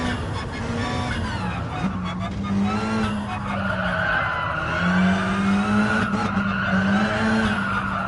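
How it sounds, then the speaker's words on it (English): A Mitsubishi Eclipse racing car engine in Gran Turismo Sport wails and shifts pitch as it accelerates, with tires squealing and skidding along the way; loud and continuous, no talking. "I love the sound of this car. This Mitsubishi sounds so good."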